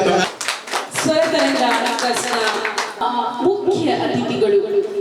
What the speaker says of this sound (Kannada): ದಯವಿಟ್ಟು ಎಲ್ಲರೂ ಎತ್ತು ನಿಂತವರನ್ನ ಚಪ್ಪಾಳೆ ಮೂಲಕ ಸ್ವಾಗತ ಮಾಡಿ